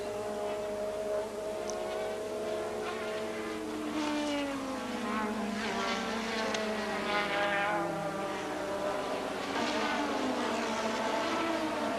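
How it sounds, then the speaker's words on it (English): Formula 1 race cars at the 1986 Austrian Grand Prix, including a car pushed hard while chasing another, produce a sustained loud engine howl with rising and falling pitch sweeps as cars pass and shift, steady throughout. "Fabi was still pushing his car hard, hoping to get past Berger"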